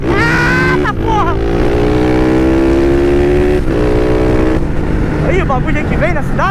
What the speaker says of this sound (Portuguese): Vou dar aquela aceleradinha na moto pegando bala